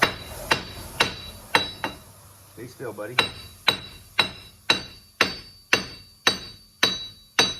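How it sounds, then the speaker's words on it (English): Hard metallic hammer strikes on a corroded wheel hub of a 2004 Grand Caravan ring out in a steady rhythm, about a dozen close blows with a sharp clang, and someone briefly speaks between hits. "Grab yourself the biggest hammer you got available. Start tapping."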